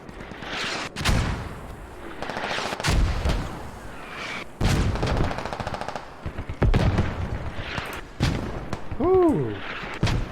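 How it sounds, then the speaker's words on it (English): Dense gunfire and booming mortar impacts fill a war video game battle between British forces and insurgents, with rolling bursts of shots and explosions, loud and continuous, with a voice talking over parts of it. "here comes the mortars right back at the British"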